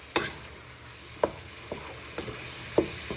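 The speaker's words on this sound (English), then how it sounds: "You want to start giving this a little bit of a stir" Mince, onions, garlic and chilli frying for taco soup hiss steadily in a pan, broken by a few sharp spoon-against-pan scrapes spaced about a second apart.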